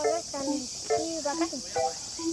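A high, continuous buzz of cicadas singing outdoors in summer fills the background, while children's voices chatter in bursts over the steady insect drone.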